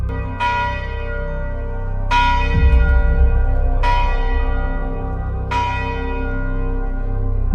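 A large church bell tolls four times at slow, even intervals, each strike ringing out and decaying into the next.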